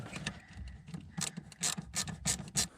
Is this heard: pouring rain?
no